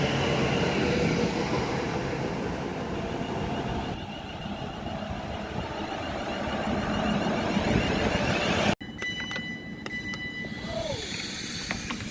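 A passenger train rolls into a station on a line toward London Euston, a loud steady rumble and hiss of wheels and carriages close by, which cuts abruptly to quieter station ambience with faint high beeps and squeals.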